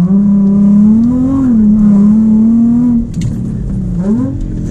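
A Nissan 350Z's engine revs loud and close during a fast lap at the Guapimirim kart track in Brazil, holding a steady drone, dipping briefly as it eases off, then climbing again.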